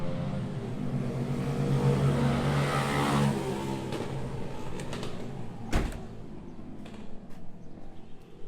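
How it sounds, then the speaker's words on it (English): Motorbikes pass through a town street, a loud broad engine roar building and fading over several seconds, followed by a sharp knock and scattered smaller street noises. "Might be a bit noisy as some motorbikes go through town."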